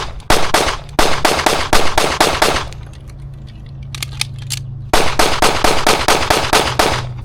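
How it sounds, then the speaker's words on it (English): A Kimber 2K11 pistol fires rapid strings of sharp, loud gunshots, with a quick burst of evenly spaced cracks, a short pause with faint handling noise, then another fast volley. "let's just see how fast I can get some rounds off with the Glock versus the Kimber"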